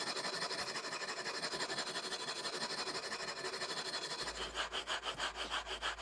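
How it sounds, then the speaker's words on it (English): Continuous rhythmic rasping of 80-grit sandpaper on a leveling beam drawn back and forth over a guitar fretboard, the strokes growing more distinct and pulsing toward the end. "start with the leveling beam with some 80 grit sandpaper and just begin level sanding the whole surface of the fretboard"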